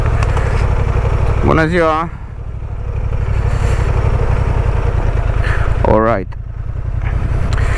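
Honda Transalp 750 motorcycle crawling off-road at walking pace near a campsite, its low engine drone steady and close throughout, with someone speaking briefly over it twice.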